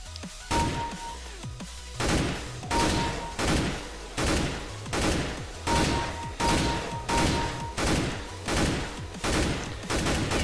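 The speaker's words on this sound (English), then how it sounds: "So you should shoot in burst of 2" Repeated short bursts of rifle fire in CS:GO, loud and close, sharp cracks grouped in twos and threes at a steady pace across the stretch.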